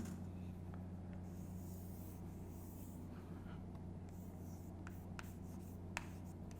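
Faint handwriting strokes during a math lesson on quadratic functions, soft continuous scratching over a steady low background hum with a few small taps.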